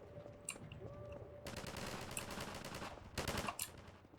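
Rapid automatic gunfire in Half-Life 2, arriving in two dense bursts of shots with a quieter stretch between them, set against steady game ambience.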